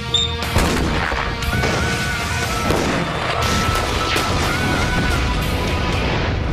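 Explosive charges detonating at a bomb range, a loud roaring blast that rumbles and crackles continuously throughout.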